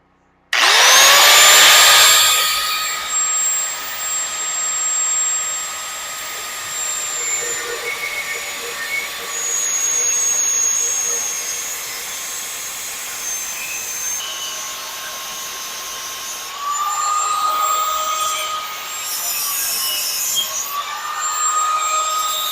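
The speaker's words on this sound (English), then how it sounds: "Now we're going to cut this off so that it looks good instead of having a big old exhaust hanging down" A stainless steel exhaust pipe on a V8 Jeep YJ is cut off with a power tool, a loud steady whine starting abruptly and droning on for over twenty seconds, shifting pitch as the blade bites.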